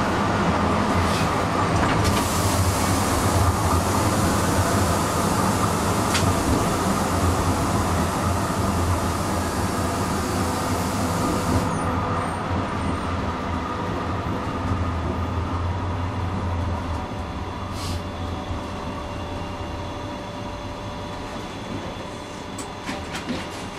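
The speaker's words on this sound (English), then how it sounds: "Tram continues straight along Clarendon Street." A Melbourne route 12 tram rumbles steadily along Clarendon Street, heard from the driver's cab with continuous wheel and motor noise, rail hiss and occasional clicks throughout.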